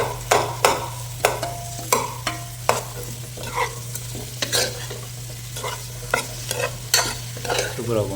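Zucchini (koosa) frying in a pan for a vegetable gravy, stirred with repeated sharp scraping strokes over a steady low hum, close and moderately loud.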